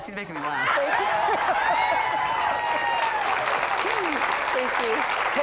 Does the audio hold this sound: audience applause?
yes